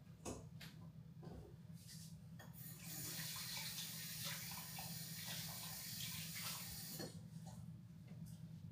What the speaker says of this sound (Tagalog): Hugas mo na ako ng kamay.